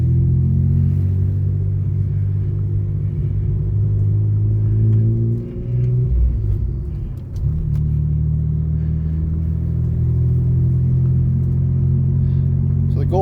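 A 1994 Mitsubishi 3000GT VR-4 with a stock 9B turbo on a test drive, heard from inside as a steady low engine drone with a brief dip and shift in pitch midway before settling back to cruising.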